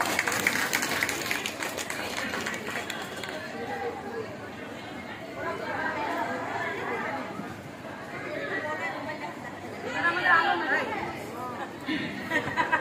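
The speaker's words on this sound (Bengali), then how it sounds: "জোরে হাততালি হোক" A Teachers' Day celebration crowd claps steadily through the whole stretch, a dense, even patter of many hands mixed with chatter and voices, swelling slightly near the end.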